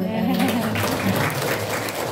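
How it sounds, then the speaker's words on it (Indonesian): Audience clapping at a junior high school program introduction, a moderate wash of applause with some voices mixed in underneath. "Supaya semangat tepuk tangan dong"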